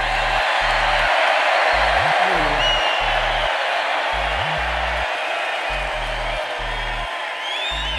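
A large rally crowd in a stadium roars and cheers continuously, a dense wash of voices and whoops that never lets up, with a low humming tone pulsing beneath.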